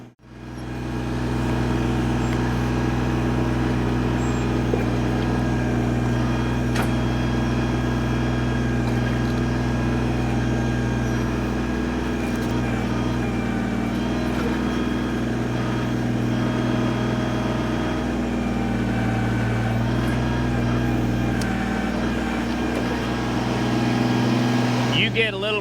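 A Kubota BX23S compact tractor engine running at a steady idle, a continuous close mechanical drone with firm low harmonics that barely changes, someone talking over it.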